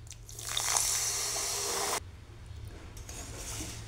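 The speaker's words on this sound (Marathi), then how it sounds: "थोडंसं पाणी टाकायचे।" Water poured into a pan holding grated jaggery makes a steady splashing hiss for about two seconds. It then drops to a quieter trickle and faint sizzle. No one speaks.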